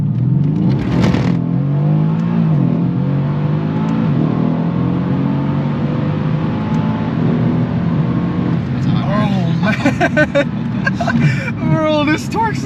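A tuned 2018 Mercedes-Benz C63s AMG accelerates hard with its tires slipping, the engine note rising in sweeping pitch climbs and shifting several times, heard from inside the cabin while people talk over it.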